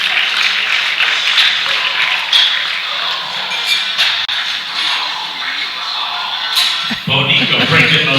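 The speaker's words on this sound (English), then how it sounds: "Give her a round of applause for that attempt." Audience applause after an attempt at an open women's classic bench press world championship, a sustained, steady wash of clapping filling the hall for the whole stretch, with a brief thud and rustle near the end.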